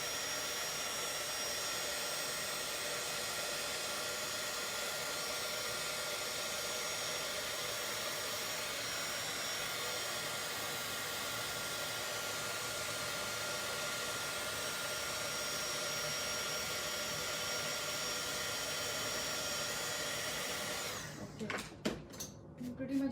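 A heat tool drying paste on a handmade craft mini album, giving a steady, close blowing roar that runs unbroken for about twenty seconds before cutting off, followed by some light handling noise.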